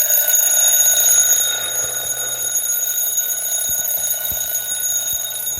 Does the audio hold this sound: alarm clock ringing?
yes